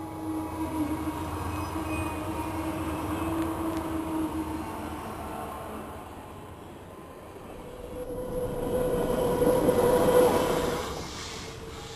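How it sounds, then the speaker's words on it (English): A train rolls through the Brunswick rail yard with a steady rumble of wheels and cars, then grows louder with a metallic squeal around the middle before easing off. "trains still pass through Brunswick on a regular basis"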